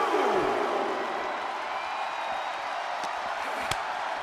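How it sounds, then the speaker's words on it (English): A dense, steady roar of an arena crowd cheering in the WWE 2K23 wrestling video game, continuous and loud with a couple of brief sharp impacts near the end. "The sound of this crowd is deafening"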